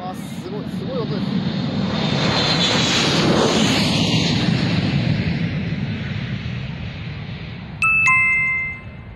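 A jet airliner passes right alongside at an airport, its roar swelling loud and close before easing off. A bright electronic chime sounds near the end.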